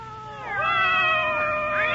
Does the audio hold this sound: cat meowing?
yes